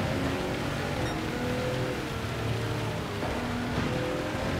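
Heavy rain falls in the racing game Gran Turismo 7 as a dense, loud wash of hiss, mixed with a droning car engine on a wet track.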